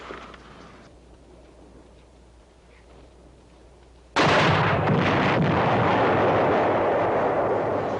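A German 88 gun blasts during WWII combat: a low rumbling stretch breaks into a sudden, very loud roaring burst of artillery fire that stays heavy and sustained to the end, with no voices.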